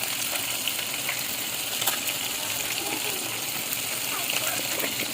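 Dried red chillies sizzle in hot oil in a wok, a continuous fine crackling hiss at moderate level with no voices, and a few sharper pops rising out of the steady frying.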